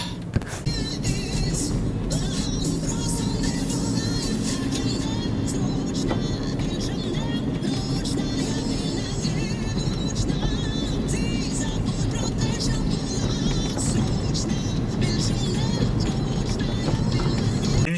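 Taxi car driving through the streets of Lviv, a continuous engine and road rumble heard from inside the cabin with steady tyre noise throughout, and a voice talking over it.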